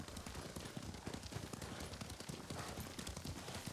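Horse hooves from the video game Ghost of Tsushima clop rapidly and continuously at a gallop, with no talking.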